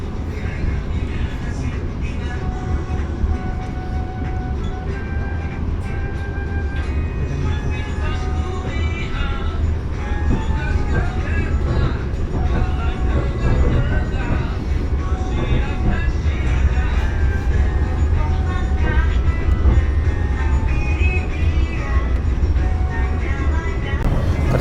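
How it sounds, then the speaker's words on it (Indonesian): Steady heavy rumble of the Doho train passing close by at Ngebruk station, heard from another train, continuous and loud throughout, with faint talk mixed in underneath. "ternyata kita bersilang dengan kereta api Doho di stasiun Ngebruk"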